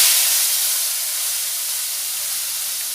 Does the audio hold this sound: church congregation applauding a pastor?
no